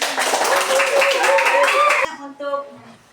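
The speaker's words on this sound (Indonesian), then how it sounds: "Ya, tepuk tangan." A class of children claps hands together in a dense burst of applause lasting about two seconds, loud and nearby, then it stops abruptly and voices continue talking in the room.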